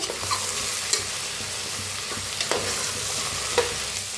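Soaked soybeans roasting in hot oil tempering, a constant close sizzle broken by a few sharp spoon-scrape stirs, with no voices.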